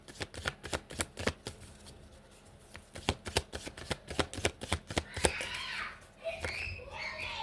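Tarot cards being shuffled by hand, a dense run of quick crisp riffling snaps and flutters at close range, with soft breathy background noise toward the end.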